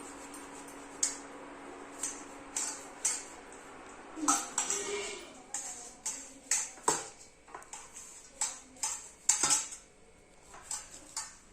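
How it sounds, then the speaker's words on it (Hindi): Knife finely chopping leafy greens (bhaji) on a board in a home kitchen, a string of sharp, irregular taps and clicks, close and fairly loud, in quick bursts with brief pauses. "इस तरीके से आपको पूरे अच्छे तरीके से बारीक बारीक काट लेना है भाजी को"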